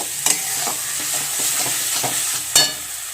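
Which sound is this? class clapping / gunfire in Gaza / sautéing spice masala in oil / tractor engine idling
sautéing spice masala in oil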